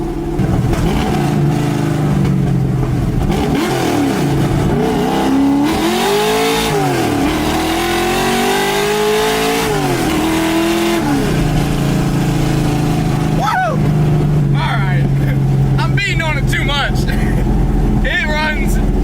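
A car engine revs hard in second gear, with repeated rising and falling pitch sweeps across several pulls. It is loud and close, under steady background noise and occasional talk.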